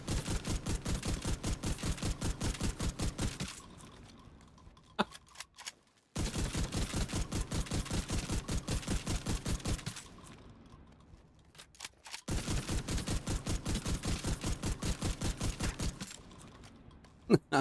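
Gunfire in The Division 2, three long bursts of rapid automatic fire in an even rattling rhythm, each separated by a short pause with faint clicks and reload sounds.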